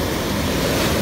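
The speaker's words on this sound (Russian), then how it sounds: "Вау, какая волна идет." Ocean surf rolls and breaks onto shore in a loud, steady wash of churning water mixed with wind rumble, heard alone without talk.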